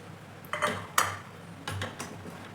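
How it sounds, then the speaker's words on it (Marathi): Metal spoon scraping and clinking in a pot as ground rice paste is stirred, a few brief close clatters, faint and without talk. "आणि आता जे आपण वाटण केलेलं होतं तांदळाचं ते पण टाकून घेणार आहोत आणि लगेच लगेचच हलवत राहायचंही"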